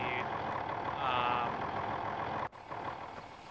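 A steady mechanical rushing and rumbling fills the clip, like seed pouring from a Meridian 400SLD seed tender into a planter over a running engine in Farming Simulator 2015, cutting off abruptly near the end.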